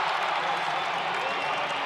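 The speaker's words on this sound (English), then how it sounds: "Crowd rallying behind this team." A basketball arena crowd at a Utah State versus Wyoming college game cheers and claps in a steady, dense roar, a continuous wash of clapping and voices with no single standout shout.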